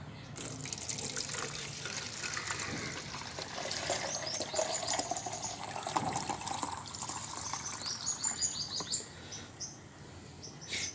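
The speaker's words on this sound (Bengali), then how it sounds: "তো চলো এটা আমরা একটা পাত্রের মধ্যে কিন্তু সুন্দর করে ছেঁকে নিই।" Turmeric liquid is poured and strained into a container, giving a steady splashing, trickling stream that continues throughout, fairly soft and close, with no talk.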